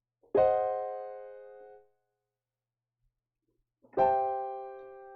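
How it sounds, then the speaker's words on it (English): Two sustained keyboard chords, each a Swiss augmented sixth chord struck cleanly and left to ring and fade, with a pause of silence between them. "If we play this on keyboard here, it sounds like this."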